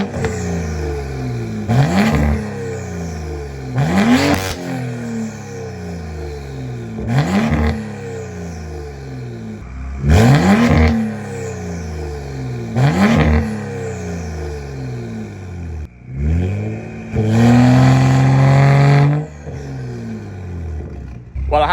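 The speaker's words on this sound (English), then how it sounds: "I feel comfortable revving that pretty high with the temperature as it is." Tuned BMW M235i and M240i engines rev hard in a row of sharp, roaring bursts, each quickly rising and falling, followed by a longer sustained high-rev blast near the end, loud and close.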